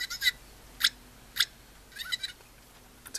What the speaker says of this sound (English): It's a cute little rooster.